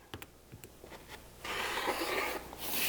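A rotary or straight blade slices along a ruler through quilting fabric for a crazy quilt block, giving a steady, close rasping cut of about a second and a half after some faint handling taps.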